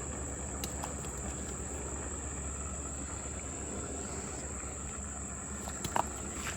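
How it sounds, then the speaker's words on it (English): Steady insect buzz and cricket-like chirring by a spring creek outdoors in summer, a continuous even drone with a constant high whine throughout and one brief faint tap near the end. "There's bugs flying around, Bobo."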